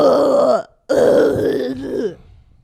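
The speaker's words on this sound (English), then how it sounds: "I'll pat your back to burp you" A person lets out a loud, drawn-out burp after taking too big a bite. It comes as two long, throaty belches separated by a brief silent gap, close and alone with no talking.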